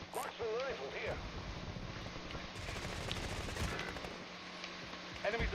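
Rifle gunfire in a video game: rapid bursts of shots crackle through a busy, dense mix of game effects, with a voice and other chatter running underneath throughout.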